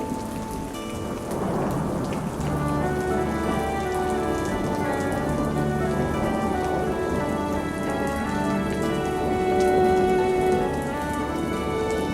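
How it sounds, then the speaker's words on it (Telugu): Heavy rain pours down in a dense, steady hiss that stays loud and close for the whole stretch, with no voices. "బాబా, వాన పడుతుంది. అయ్యో పెద్ద వర్షం."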